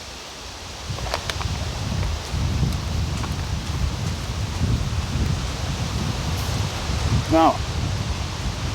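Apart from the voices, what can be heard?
wind blowing through leaves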